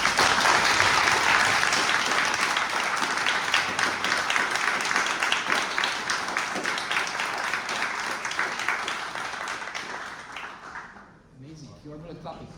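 An audience applauds at the close of a talk about AI and machine learning at a summer event, a dense, sustained clapping that fades and thins out toward the end.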